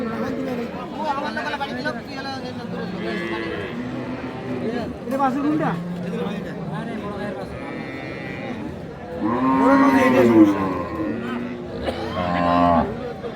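Sahiwal cows with calves low repeatedly at a village cattle market at Ambari haat in Dinajpur, the long moos rising over constant nearby human chatter.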